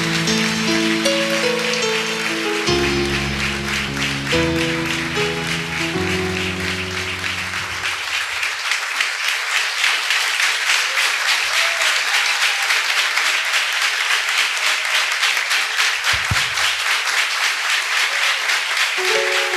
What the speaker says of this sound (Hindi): आपने मेरे लिए तालियां बजाई